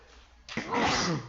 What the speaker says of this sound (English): He didn't sneeze, the DM sneezed.